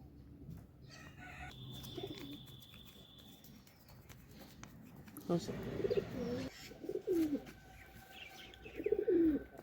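Pigeons recovering from a cold coo softly as they are fed grain mixed with medicine, with a faint hum at first, then louder bursts of cooing and rustling near the microphone, and a voice breaking in now and then.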